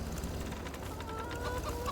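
Chickens cluck and chatter softly on a farm in a video game, a low, steady murmur of hens with small pecking calls scattered over a faint background hum.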